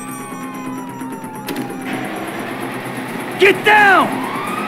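A police siren wails in the Grand Theft Auto 5 video game, with a drawn-out falling tone and then loud rising and falling sweeps over vehicle engine noise, while a voice shouts over it.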